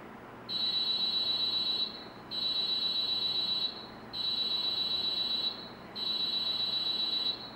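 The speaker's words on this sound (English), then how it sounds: "It beeps twice. If it's not picked up, it beeps 4 more times." An emergency alarm telephone beeps before dialing: four long, loud, high-pitched electronic tones of about a second and a half each, evenly spaced with short gaps, sounding alone in a quiet room.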